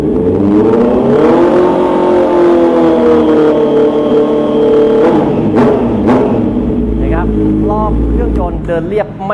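A 2020 Honda CB650R motorcycle with an SC Project slip-on exhaust, its engine loud and close as it blips and revs up and down in quick rises and drops, ending with a few short throttle stabs.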